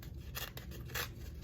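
Paper from a note is torn by hand along its edges, a few short, faint ripping strokes in quick succession.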